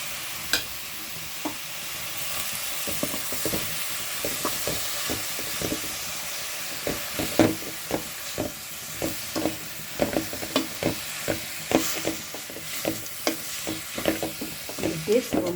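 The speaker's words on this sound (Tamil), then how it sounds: "இப்போ நாம் வதங்கின கீரையை எடுத்து இதில் குட்டி வதக்கிக்கலாங்க" Wilted greens being sautéed with green chilli in a pan for keerai poriyal, a soft continuous sizzle under a rhythmic run of spatula knocks and scrapes that grows busier toward the end, close and moderately quiet.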